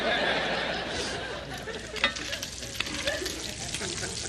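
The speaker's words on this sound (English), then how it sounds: "that's why you start with the bacon first, getting it crispy" Bacon sizzling and crisping in a pan, heard close with a steady frying hiss, the occasional scrape of stirring and faint chuckling in the background.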